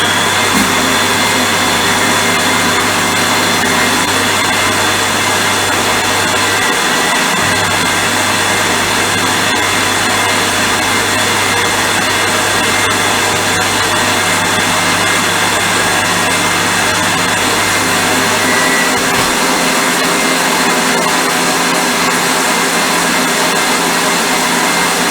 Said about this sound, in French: Puissance maximale sur le robot.